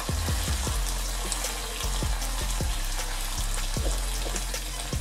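Fish fries on a tawa pan in very little oil, a steady close sizzle and crackle broken by repeated soft knocks and scrapes as the pieces are shifted around, with no talking.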